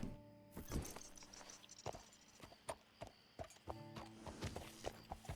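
Hooves of a horse clip-clop in Red Dead Redemption 2, a run of sharp, fairly close hoofbeats in an uneven walking rhythm, with faint game music in the background.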